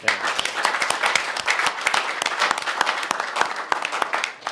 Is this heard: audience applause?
yes